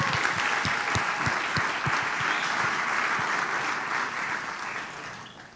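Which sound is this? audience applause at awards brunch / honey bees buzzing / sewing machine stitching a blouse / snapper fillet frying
audience applause at awards brunch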